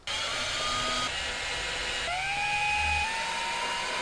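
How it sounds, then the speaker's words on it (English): A power drill drives screws into the roof of a VW T4 camper van high-roof install. It gives a continuous close, loud whine that shifts pitch between bursts as each screw goes in, with no talking. "Now to just put the last few screws in."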